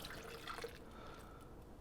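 About 8 ounces of liquid egg whites are poured into a protein shake, a soft close splashing and dripping that trails off after a moment.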